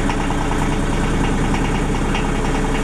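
A 30-year-old diesel generator engine runs steadily at close range, a loud continuous low rumble with a dense knocking rhythm and no pauses.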